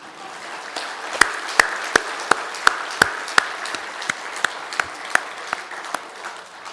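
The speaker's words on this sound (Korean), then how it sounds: "우리 아내와 엄마를 위해서 감사의 박수 한번 치십시다." Church congregation clapping in thanks during a sermon: a soft bed of light applause with a series of sharp, evenly spaced louder claps standing out near the listener, no talk over it.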